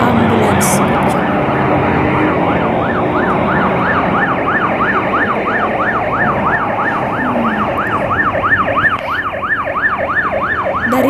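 An ambulance siren wails in a fast, repeating up-and-down cycle on a Malaysian road, loud over steady traffic noise.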